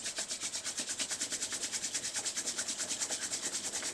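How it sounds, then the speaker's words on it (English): Palms rubbed briskly together during a yoga session, a fast, steady rhythmic swishing of skin on skin, close and fairly quiet, with no voices. "Rub the palms."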